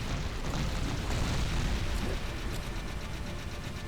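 A big explosion in the video game Jak 3, a dense, sustained broadband rumble with crackling bursts that stays loud and steady throughout, with no voices over it.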